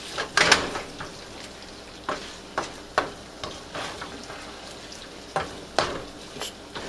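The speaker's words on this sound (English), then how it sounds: "I'm going to cook the eggs in a separate pan. And with that, we use butter." Eggs cooking in butter in a separate pan give a soft, steady sizzle, broken by sharp scrapes and clinks of a utensil against the pan every half second or so.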